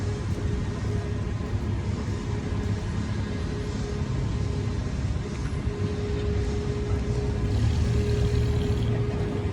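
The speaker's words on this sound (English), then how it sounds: "This is showing the traffic. It's moving." Steady street traffic rumbles past a construction site on Main Street in Chapala, a continuous low engine drone with passing vehicles and no clear talk.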